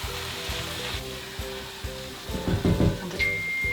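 Peppers being stirred into frying chilli con carne with red kidney beans, a steady sizzle under repeated scraping and stirring strokes that grow busier toward the end.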